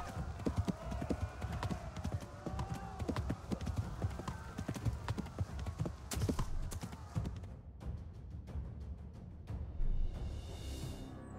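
A horse gallops in the medieval video game Kingdom Come: Deliverance, with rapid, steady clip-clop hoofbeats close by, a brief whinny among them and faint game ambience as the pace continues.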